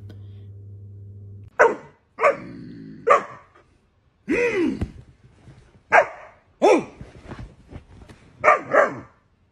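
A German Shepherd barks in short, separate bursts indoors, fairly close, with quiet gaps between barks and a low hum at the start.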